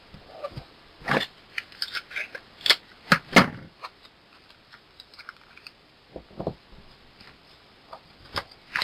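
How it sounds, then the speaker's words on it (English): Tape torn from a roll and pressed onto paper while assembling an envelope mini album, heard as a series of sharp crackly rips and taps of varying loudness, close by with no talking. "I take some tape and I will just tape it down"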